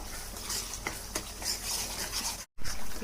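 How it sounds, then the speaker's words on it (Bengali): Chopped parsley stems fry in a pan at moderate volume, a bright continuous sizzle broken by a couple of spoon taps and one abrupt brief dropout near the end. "আর দু তিন মিনিট ভেজে নেবো"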